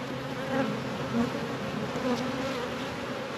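Honeybees at a home hive working on comb make a continuous close buzzing hum with individual bees droning past.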